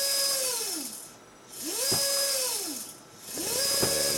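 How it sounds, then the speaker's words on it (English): An Arduino joystick-controlled robot motor whines close by in three separate bursts, each rising in pitch, holding, then falling away as it slows, with brief quiet gaps between runs. "Forward, makes the motor go forward."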